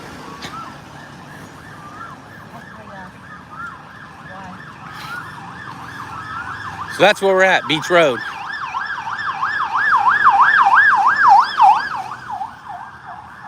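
A wailing ambulance siren on a street in Pattaya, Thailand approaches and grows louder, its warbling tone rising and falling, with a brief horn blast and someone speaking over it.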